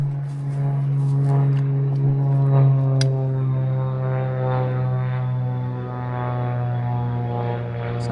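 A pontoon floatplane passes overhead above a woods road, its propeller engine making a loud, steady droning hum with a rich buzzing tone that holds for several seconds, with no one speaking.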